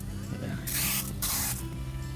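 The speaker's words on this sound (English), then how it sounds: "then you can actually use it by spraying" Two bursts of spray hiss from a knapsack sprayer, each roughly half a second to a second long, close and loud over a low background hum.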